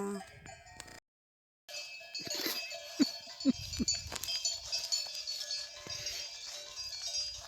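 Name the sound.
cows in a herd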